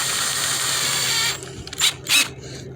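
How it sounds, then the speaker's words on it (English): A power drill fitted with a Velcro buffing pad whirs at steady speed, then stops and gives two short bursts, with some rattling handling between them. "we're gonna go ahead and use this setup here on our drill."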